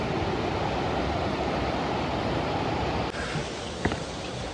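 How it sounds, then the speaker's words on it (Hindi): Chhoie waterfall in Tirthan Valley gives a constant, broad rushing roar of falling water, steady and fairly close, with one brief sharp tap near the end. "पानी का इतना प्यारा शोर सुनाई दे रहा है भाई,"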